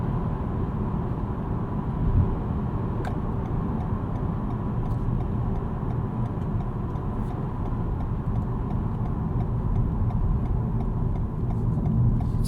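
Steady four-cylinder drone of a 2021 Toyota Camry XSE Hybrid accelerating on the road, heard from inside the cabin as a constant, even engine hum with road noise and a few faint ticks, no talking.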